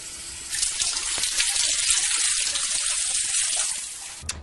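Water running from a hotel bathroom tap at the Madonna Inn, a close gushing stream that starts after a half-second, flows steadily for about three seconds, then stops.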